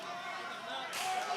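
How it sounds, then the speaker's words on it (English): One sharp, slapping open-hand chop lands on a wrestler's chest during a title match, a single crisp crack over a steady murmur of arena crowd noise. "What a chop there by the champion."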